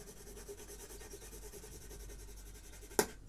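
A soft 8B graphite pencil rubs steadily across paper while shading, then its tip snaps once with a short, sharp crack near the end.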